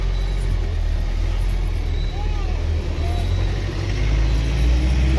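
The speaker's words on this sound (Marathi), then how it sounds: "तर चला आता आमची बस सुटली बघा" A bus pulls away on a trip to Jejuri, with a low, steady engine rumble throughout, loud and close from inside, with faint voices underneath.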